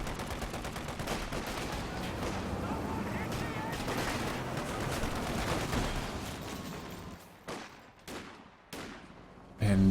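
A .50 cal machine gun in Company of Heroes 2 firing sustained rapid bursts, dense and loud for several seconds amid battle noise, then tapering into a few scattered shots.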